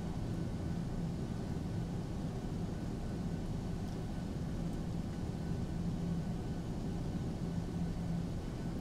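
A Ryanair Boeing 737-800 taxis toward the runway at London Luton, heard from inside the cabin as a steady, unbroken low rumble of engine and airframe noise with no voices.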